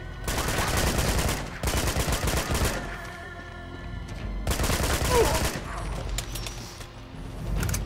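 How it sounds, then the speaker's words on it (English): FAL burst rifle from Uncharted 2 firing loud, close bursts in three main volleys separated by short lulls, with crackling debris and ambient game sounds between. "I actually am using the FAL, burst rifle, short control bursts"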